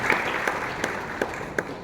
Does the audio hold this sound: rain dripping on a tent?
no